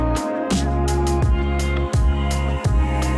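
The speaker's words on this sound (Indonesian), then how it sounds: "sudah menjalankan FCH 177 mesin pemanen jagung." A Firman FCH177 corn harvester runs at a corn harvest event with a loud, close, steady mechanical drone, marked by a repeating burst of noise roughly every half to three-quarters of a second.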